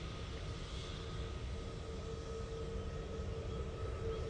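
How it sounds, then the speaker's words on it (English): Ryanair Boeing 737 MAX beginning its takeoff roll at Manchester Airport, a faint, distant steady engine hum with a thin sustained whine, heard alone. "that Ryanair Max has now started its roll"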